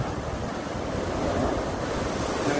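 Rough, angry sea at Burgos, Pangasinan, a steady loud roar of crashing surf and churning water mixed with strong wind buffeting the microphone, with no voices.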